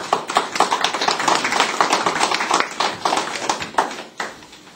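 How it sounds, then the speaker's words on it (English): A Habitat for Humanity gathering applauds a volunteer, a brisk, close round of individual claps in a lively rhythm for several seconds, thinning out toward the end. "So I think a round of applause for Mark."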